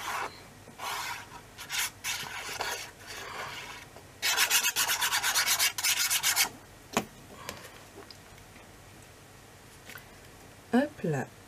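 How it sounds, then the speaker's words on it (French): An old blade is touched up with a few short bursts of rasping nail-file strokes, close and moderately loud, separated by quiet gaps, with a person speaking at times. "J'ai juste limé un peu."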